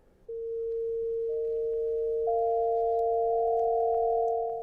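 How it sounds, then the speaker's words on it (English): Steady electronic tones standing for the hydrogen light spectrum turned into sound: a pure sine tone enters, then a second and third higher tone join in steps, forming a sustained, clean chord with no voices. "This is the sound of hydrogen."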